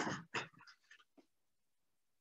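A dog pants in short, breathy bursts close by, two strong huffs followed by softer gasps and a brief whimpering tone, then quiet before another pant at the end.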